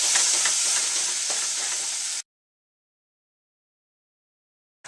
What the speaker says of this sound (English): we add the milk, and it's been heated, so it will not form lumps.